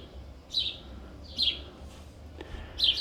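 Birds in a hotel garden give three short, bright chirps at a steady pace over quiet, low background noise. The calls are moderately near and there is no talking.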